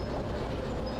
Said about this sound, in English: The train is already rolling into the siding